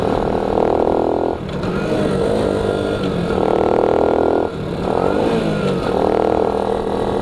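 Honda Cub motorcycle engine running steadily while riding, a loud continuous mid-pitched drone that dips briefly twice as if shifting gears, then resumes.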